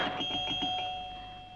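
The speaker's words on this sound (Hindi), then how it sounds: "ये घंटी चिपक गई है या किसी अनाड़ी की उंगली?" A doorbell rings continuously in an indoor home setting, repeated electronic ding tones buzzing close and fairly loud, as if the button is stuck, with no voices.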